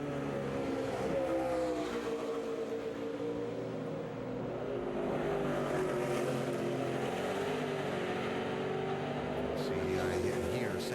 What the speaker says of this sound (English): See, I did hear Sam's car there as he went through the kink, breaking a little traction